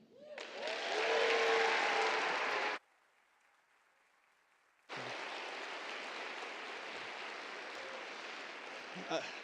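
Big audience applause after a talk at a Mexican cultural speaker event, loud sustained clapping for about three seconds, then a short hush before a second long wave of steady clapping.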